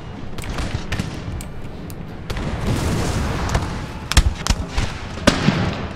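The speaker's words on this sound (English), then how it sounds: "The artillery continues to pepper me" Artillery and musket fire on a Napoleon Total War battlefield, with scattered cannon booms and sharp cracks popping irregularly over a low battle rumble, growing heavier with a few loud close blasts toward the end.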